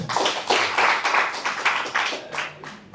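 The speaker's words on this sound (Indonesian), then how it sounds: "Tepuk tangan untuk Prof. Amir." An audience at an academic debate applauds with loud, dense clapping that gradually thins out and fades over a few seconds.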